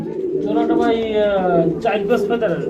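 A chocolate-coloured pigeon on a breeding farm coos in a steady, rolling run of low, throaty notes, close and fairly loud, with a voice talking over part of it.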